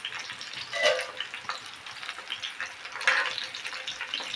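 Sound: stuffed chilies with gram flour frying in oil on low heat

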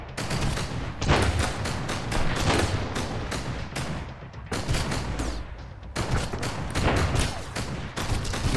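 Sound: heavy machine gun firing in video game Sunkenland

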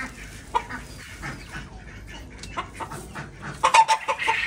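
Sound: chickens clucking

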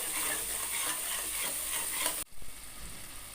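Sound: spices with Kashmiri red chili powder being stir-fried

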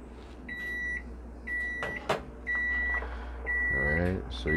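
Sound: kitchen timer beeping

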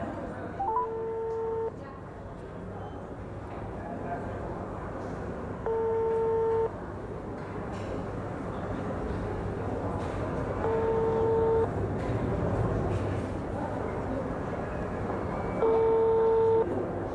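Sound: telephone dialing and unanswered call signal

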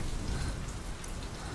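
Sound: rain in the video game Metal Gear Solid 5

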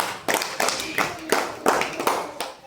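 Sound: children clapping

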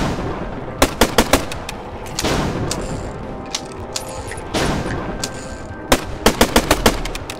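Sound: gunshots in video game Falsepine final boss fight

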